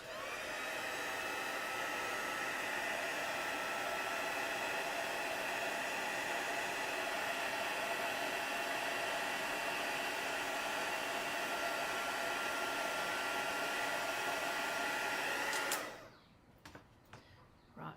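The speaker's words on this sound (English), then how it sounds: "So I'm just going to grab my heat tool" A heat tool for melting embossing powder blows a steady, loud whooshing hiss for about fifteen seconds close to the microphone, then cuts off abruptly, leaving a few faint clicks.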